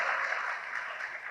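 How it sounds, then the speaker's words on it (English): Conference audience applauding at the close of a panel, a dense, steady wash of many hands clapping at even loudness throughout, with no voices over it. "Please join me in applauding these wonderful gentlemen for their interventions."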